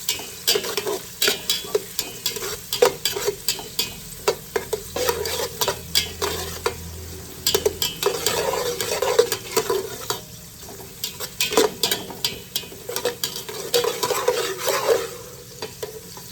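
Onions being stirred in a pan for a Filipino-style home dish: repeated scraping and clinking stirs over a light, steady sizzle, close up and with no talk.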